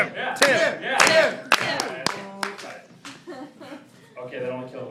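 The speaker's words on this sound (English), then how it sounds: "let's do a slow clap and try to kill some time" A stand-up comedy audience claps slowly together in a steady rhythm, with cheers and a chant rising through the claps, and the comedian's voice joins in.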